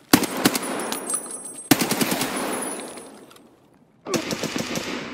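Automatic gunfire in the shooter game Escape from Tarkov rips out in loud, rapid bursts close by, with a short lull before another burst, and no talk over it.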